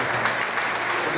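A church congregation at a conference service applauds in a dense, steady wash of clapping, loud and continuous for a brief moment.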